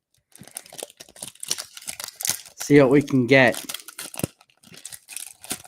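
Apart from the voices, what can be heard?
tearing open a foil pack of hockey trading cards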